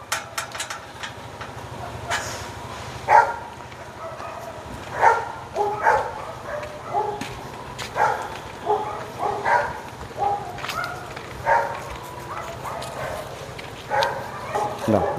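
Bullmastiff dogs, including an old one, bark in repeated deep bursts, some near and some farther off. Speech runs throughout.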